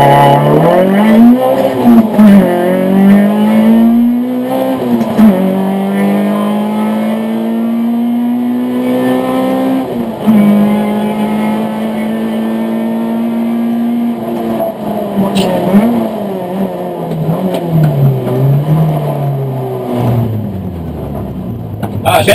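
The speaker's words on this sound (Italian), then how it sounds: "Facciamo salire di giri il motore." A Citroen Saxo race car revs hard through repeated acceleration runs, the engine pitch climbing and dropping with each gear change, loud and close, with a brief lull mid-run before winding up again.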